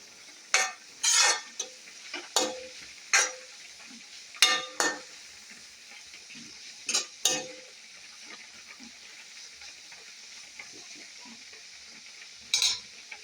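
Egg noodles stirred and fried in a pan, with a series of separate sharp scraping strokes against the metal over a faint, steady frying hiss.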